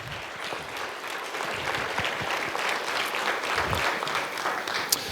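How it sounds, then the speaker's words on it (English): Steady applause from an audience honouring participants at a Citizens' Academy graduation, sustained and fairly close for the whole stretch, with a loud clap standing out near the end. "round of applause for all the participants."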